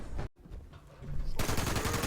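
Anti-armor .50 caliber machine gun firing in Fallout 76, a sustained loud burst of rapid automatic gunfire that starts after a brief quieter stretch with a short dropout, dense and continuous to the end.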